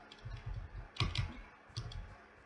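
Computer keyboard keys clatter in short clusters of light clicks, close and fairly quiet, with small pauses between groups of presses.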